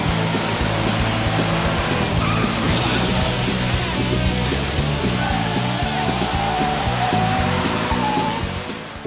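Police academy pursuit driving as officers chase an instructor's rabbit car, with a loud, continuous roar of engines and tire noise holding steady throughout and easing off slightly at the end.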